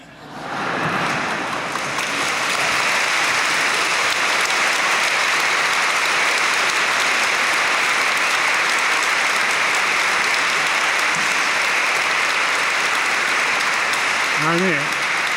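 A lecture audience gives sustained, loud applause at a talk by a cardinal. The clapping swells within the first second and holds as a dense, continuous roar, with a brief voice near the end.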